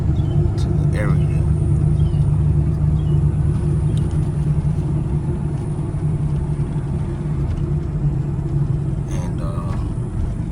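A car drives along with a steady, continuous low road rumble and engine hum throughout, close and fairly loud, with no clear voices over it.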